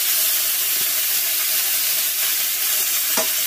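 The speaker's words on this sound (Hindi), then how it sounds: "अब थोड़ा सा फूल को फ्राई होना है" Neem flowers frying in a pan alongside already-fried eggplant give a steady, loud sizzle and hiss, with faint stirring scrapes now and then.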